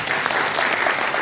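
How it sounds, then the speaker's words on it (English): An audience at a business administration alumni lecture session claps loudly and continuously, a thick, close burst of applause. "I would like to all of you to clap for that"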